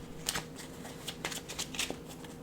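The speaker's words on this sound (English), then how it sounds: "Shuffle that up, put that back." A deck of trading cards is shuffled by hand in a quiet room, a series of quick soft riffling bursts over about two seconds.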